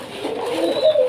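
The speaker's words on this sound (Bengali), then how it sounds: "রেস্টে আছে কবুতর দুইটা।" Pigeons resting in a loft give a soft, close, single throaty coo lasting about a second.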